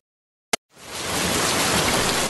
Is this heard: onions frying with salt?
no